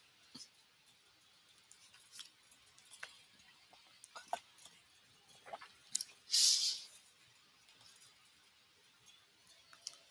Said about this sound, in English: typing. Yep, typing.